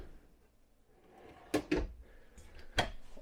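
A drawer in a 2021 Grand Design Transcend XPLOR 231RK camper sliding shut, a faint rolling slide followed by two quick clacks and then one more sharp knock, close and quiet with no talking.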